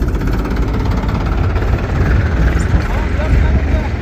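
A tractor engine running at a village tractor fair, a loud steady low rumble that continues throughout, with people talking over it.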